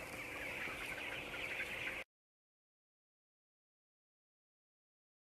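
Chickens clucking in a barn, a dense murmur of many birds close by for about two seconds before the sound cuts off abruptly into silence.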